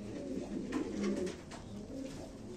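Several tumbler pigeons coo in soft, overlapping rolling calls, steady and close throughout, with no talking.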